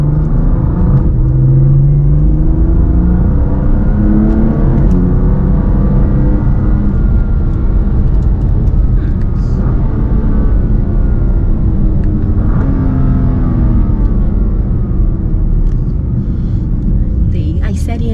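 A BMW M4 CS accelerates hard, its engine a loud continuous rumble throughout with rising and falling pitch sweeps as it revs, while people talk over it from inside the car.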